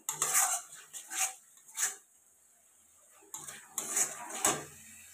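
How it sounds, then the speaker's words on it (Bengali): A spoon scraping and clinking against a pan while chili powder is stirred into a spicy egg curry, as a handful of metallic strokes in two bursts separated by a quiet pause. "দিয়ে এটাকে ভালো করে মিক্স করে নিতে হবে।"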